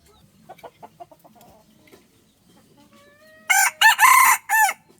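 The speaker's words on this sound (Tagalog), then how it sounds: "Yan tilaok niya." Faint clucking at first, then a nearby junglefowl rooster lets out a loud crow in several bursts toward the end.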